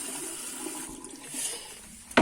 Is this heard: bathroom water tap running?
yes